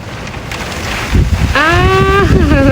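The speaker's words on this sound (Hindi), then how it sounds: "बहुत तेज़ तूफ़ानी बारिश हो रही है" Heavy stormy rain pours as a steady, loud broadband wash of noise, with a brief rising-and-falling tonal wail briefly cutting through midway before the downpour carries on.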